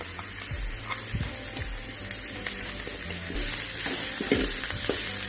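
Capsicum and chillies stir-fried for gobi manchurian, a steady close sizzle with repeated scraping stirs of a spatula through the pan.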